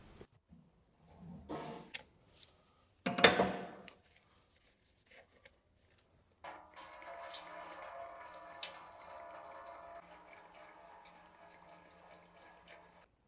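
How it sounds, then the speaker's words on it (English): Gearbox oil from an Audi seven-speed S-Tronic automatic transmission draining out of the oil pan, a steady close pouring and trickling stream that begins after a few faint clinks and scrapes and carries on to the end. "While the oil is now draining from the oil pan"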